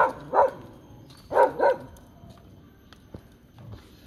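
A dog barks in three sharp bursts, one early and then a quick pair, close by, followed by quieter background sounds.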